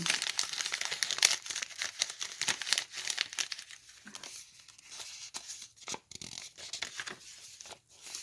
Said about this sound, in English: I love the sound of this paper.